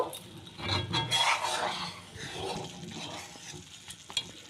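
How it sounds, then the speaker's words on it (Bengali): Spices and crushed chilli flakes being stirred in a pan for spicy sago papad, giving a steady scraping, rustling mix with soft sizzle, close and continuous with a few louder scrapes. "আর দিচ্ছি চিলি ফ্লেক্স। ভালোভাবে মিশিয়ে নেব।"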